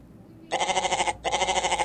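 A goat gives two loud, close bleats in quick succession, each a strained, wavering cry lasting well over half a second, separated by a brief pause, over a faint background hum.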